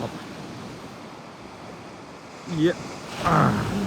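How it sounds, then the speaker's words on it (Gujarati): Sea waves breaking on a fishing shore on a cold morning, a steady wash of surf with wind on the microphone, and a person speaking briefly near the end. "હવાર હવારમાં મોજા આવા આવે છે"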